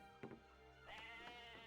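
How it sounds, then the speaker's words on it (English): Sheep bleating in the Civilization V strategy game, two short bleats, an early brief one then a longer wavering one, moderately loud over a steady game soundtrack with no talking. "Yes, sheep, I agree. Bah."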